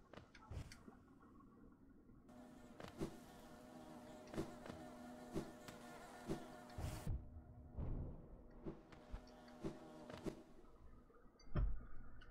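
Swarm of tiny bees buzzing in the video game Hollow Knight, a steady insect drone of wingbeats layered with the game's music and sharp recurring clicks.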